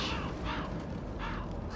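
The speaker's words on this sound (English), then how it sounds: "It's actually the crows I'm fighting." Harsh crow caws from the video game Shadows of the Damned, several loud rasping calls in quick succession close by, with no talking.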